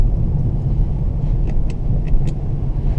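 A BMW E60 5 Series 177 hp diesel cruises on a smooth road at night, with a steady low cabin rumble of engine and tyres and a few soft ticks above it.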